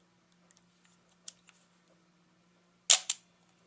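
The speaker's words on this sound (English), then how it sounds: "Voigtlander Bessa R2A. Shutter speed at 1/125th." A Voigtlander Bessa R2A shutter fires at 1/125th, giving one sharp, close double click near the end after a few faint handling ticks in quiet surroundings.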